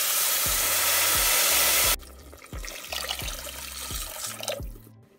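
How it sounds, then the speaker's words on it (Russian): Two glasses of cold water are poured into a pan of rice and vermicelli. A loud rushing pour lasts about two seconds and gives way to softer sloshing and bubbling, with low rhythmic bumps underneath. "добавляем 2 стакана холодной воды."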